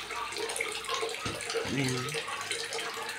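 Tap water runs into containers in a kitchen as a steady rushing splash, close by, with a person speaking briefly over it.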